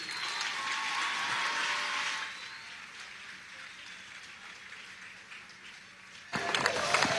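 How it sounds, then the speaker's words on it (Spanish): A crowd applauds the student federation founders at a Day of the Student ceremony at Miraflores, a dense wash of clapping that softens partway through and then swells again near the end. "Un aplauso para ellos."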